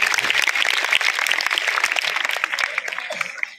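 An audience at a Republic Day school prize distribution gives a student dense, continuous applause, many hands clapping together at a steady level for several seconds.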